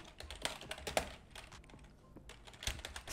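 Rapid typing on a computer keyboard while entering a workspace name in Microsoft Loop, a close, steady patter of key clicks with a few louder strikes and a brief lull midway.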